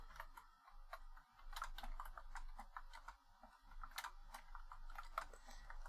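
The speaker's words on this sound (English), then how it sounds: "So this keyboard is much noisier." Fingers type quickly on a noisy computer keyboard, producing a quiet, continuous patter of clicky keystrokes heard close up.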